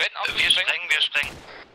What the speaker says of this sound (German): Wir sprengen, wir sprengen.